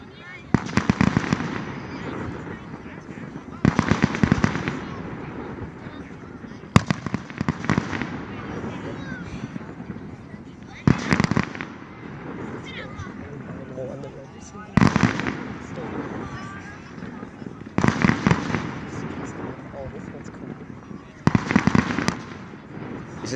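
Fireworks display heard as a series of sharp bursts and crackling pops at spaced intervals, mid-distance, with people talking between the explosions.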